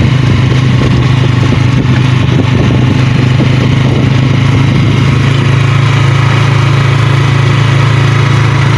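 Construction machinery engine at a residential building site, a loud, steady, close droning rumble that continues unbroken for several seconds with no talk over it.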